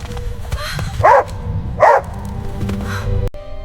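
A dog barks in two short bursts amid a dramatic outdoor rescue scene, the barks loud and close with quieter rustling between them.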